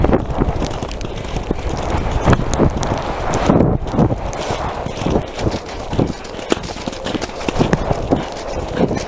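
A mare's hooves clop steadily on the ground at a hunt with bloodhounds, a close rhythmic patter under wind noise on the microphone, with no clear talk.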